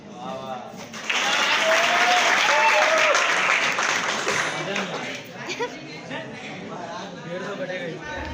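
Students at a college freshers party burst into loud, dense clapping that holds for several seconds, then fades into crowd chatter and scattered claps.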